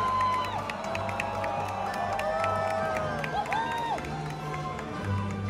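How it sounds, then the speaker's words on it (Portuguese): A crowd in an arena cheers and shouts loudly and continuously at a medieval knights dinner show, with whoops, children's shouts and scattered applause filling the hall as the knights are introduced. "Quando o cavaleiro da sua torcida aparece na arquibancada, todo mundo vai à loucura."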